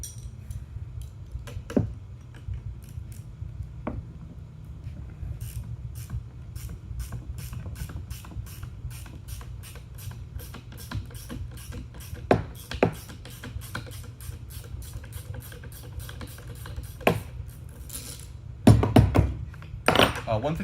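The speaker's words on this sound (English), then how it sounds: "you're going to want to take off the retaining clips to be able to access the leaf pack, and these are just going to be 14mm bolts" A ratchet wrench loosens 14mm bolts on the retaining clips of an off-road leaf spring pack, making long runs of rapid, fairly quiet clicking. Occasional heavier metal clunks break in.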